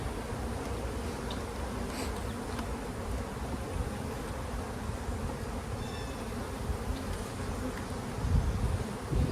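Honey bees buzzing steadily in an open hive two weeks after installation, a dense, continuous close-up drone with no voices.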